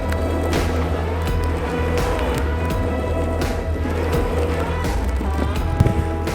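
A Backfire Ranger X2 all-terrain electric skateboard with hub motors riding along, a steady low rolling rumble of wheels on the ground with a faint motor whine, constant and fairly close.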